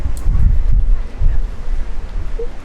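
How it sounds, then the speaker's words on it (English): A sudden strong gust of wind buffets the microphone out on the water during a pike fishing trip, loud rumbling blasts rising and falling over a couple of seconds. "I've never seen it just turn to just windy like this."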